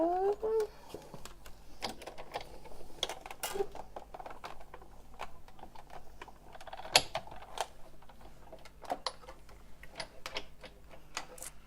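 Scissors cutting a paper heart for a handmade Valentine's card, heard as a scatter of small, close snips and clicks over a quiet room, with a few sharper ticks along the way.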